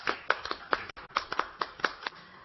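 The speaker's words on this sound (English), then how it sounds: "let's give us applause to Professor Hira" Sparse, uneven hand claps from a small audience closing a university discussion session on HIV/AIDS, a dozen or so sharp separate claps over a couple of seconds, fairly quiet and with no talk.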